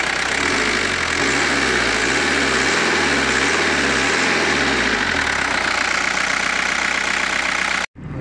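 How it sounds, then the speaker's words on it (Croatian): A 1986 Audi 80 with an old diesel engine idles close up, a loud steady clatter with a wavering low throb that settles, then cuts off abruptly near the end. "Prvo malo da snimamo zvuk motora"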